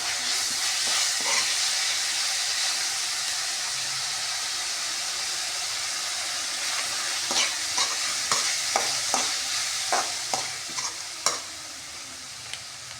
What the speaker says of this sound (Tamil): நல்லா கோல்டன் கலர் வதங்கட்டும் வெங்காயம்.